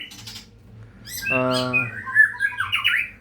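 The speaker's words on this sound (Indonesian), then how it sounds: "di sini saya hadirkan murai batu saya" A white-rumped shama sings up close, a mix of sharp squawks, a steady buzzing trill and quick high whistled chirps in a lively phrase.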